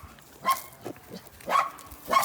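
Dog barking at a guarded site, three or four short sharp barks spaced irregularly, moderately near, with a faint whimper between.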